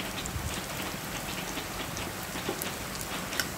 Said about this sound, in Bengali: আমি ডুবো তেলে ভাজছি না, অল্প তেল দিয়ে ভেজে নিচ্ছি